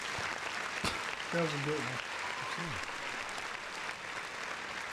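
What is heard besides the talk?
applause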